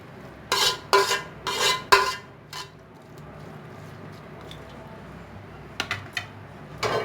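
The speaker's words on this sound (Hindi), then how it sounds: "चम्मच से मिक्स कर लेना है। मिक्स करने के बाद बिल्कुल से इसे बराबर कर देना है" A spoon scrapes and clanks against a pot while rice for beef pulao is mixed and levelled, a few sharp metallic strokes in quick bursts, then quieter low background before more light clinks near the end.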